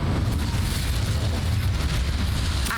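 Incendio fire spell cast in Hogwarts Legacy, a dense, continuous roaring whoosh of magical flame with a heavy low rumble, loud and steady throughout with no talking.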